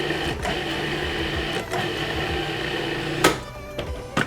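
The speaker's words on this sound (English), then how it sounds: "In goes the cheese. And we'll pulse it again." A food processor pulses pesto made of pine nuts and grated cheese, giving a steady, close motor whir with a few sharper bursts near the end.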